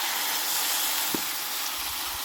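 A loud, continuous sizzle and steamy hiss rises from a pan of fried potatoes and pointed gourd as water is added, with a soft stirring clunk near the middle, and nobody speaks.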